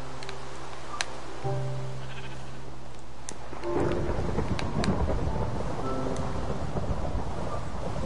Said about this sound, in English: Oh gosh, it is raining.